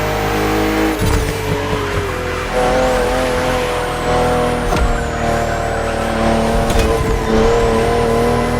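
A BMW CSL race car in The Crew Motorfest drives hard, its loud engine roaring continuously with shifting pitch, brief sharp transients and tire noise punctuating the steady drone.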